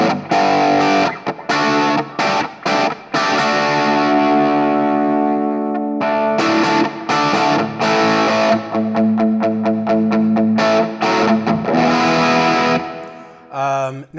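Electric guitar played through a NUX Mini Core overdrive pedal, distorted chords and choppy riffs with sustained notes and sharp stops, ending in a quick trill.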